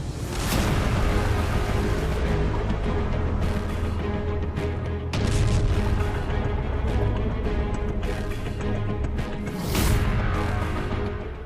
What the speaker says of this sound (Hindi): जमीनी हमलों का अभ्यास कर रहा है, बम धमाके कर रहा है।